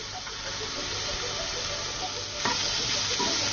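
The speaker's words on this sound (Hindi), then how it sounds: "मसालों को हल्का सा भुनेंगे" Spices lightly roasting in a pan with chaat masala, a continuous close sizzle and hiss with stirring scrapes and a brief louder burst near the end.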